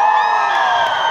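A concert crowd at a show in Poznan, Poland, screams and cheers loudly, a sustained wall of high-pitched shrieks and whoops close around.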